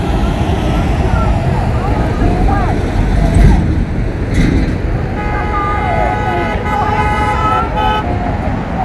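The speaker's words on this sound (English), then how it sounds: "More supporters of the pro-Trump crowd honking." Car horns honk from traffic passing a pro-Trump and Back the Blue group gathered on the La Sierra overpass in Riverside. A few toots stand out over a steady roar of roadway traffic, with voices in the background.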